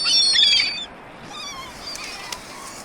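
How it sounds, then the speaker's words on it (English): Seagulls on a beach give sharp, harmonic calls, loudest in the first second, then fainter, scattered cries over steady surf-like background noise. "I love you, birds."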